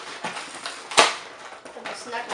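Cardboard and plastic packaging of a Nerf Disruptor blaster is torn open by hand, with a sharp ripping crack in the middle and softer rustling and scraping before and after, close and fairly loud.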